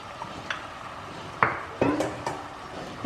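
Mutton pieces stirred with masala and salt in a pan, a few close metallic scrapes and clanks of the spoon against the pan, spaced irregularly over a quiet background.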